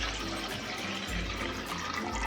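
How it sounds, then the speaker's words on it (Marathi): Water is poured from a pot into a vessel in a home kitchen, a steady close splashing gush with a slight dip midway, no voices. "1 तांब्यानं पाणी सोड"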